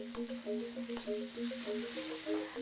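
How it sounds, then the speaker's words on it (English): Chili and ginger torch fry in a pan for sambal goreng, a faint, steady sizzle under background music with a few light clicks of stirring. "we cook it until the chili and ginger torch soft."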